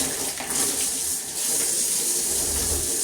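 An African net sponge is rinsed under running tap water, giving a steady, close, broadband rush that holds for the whole stretch with slight surges and no voices.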